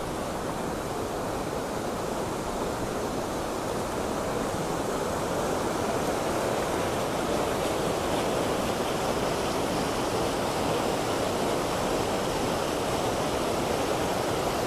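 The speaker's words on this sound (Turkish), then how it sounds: "Sağdan başka bir dere, soldan başka bir dere akıyor." Steady rushing water fills the whole span, a constant broadband roar of two mountain streams flowing and meeting close by in the eastern Black Sea region of Turkey, with no pauses or voices.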